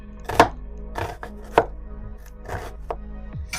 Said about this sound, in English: I'm going to move on to my onion, and I'm going to need half of my yellow onion. And you just want to make sure that these are diced.